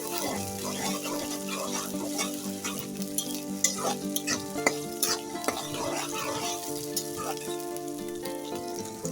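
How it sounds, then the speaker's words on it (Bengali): Ginger garlic paste and spices fry in oil for a beef tripe dish, giving a steady, close crackling sizzle broken by frequent utensil clinks and stirring scrapes. "আদা রসুনটা একটু তেলে আমি ভেজে নিয়েছি।"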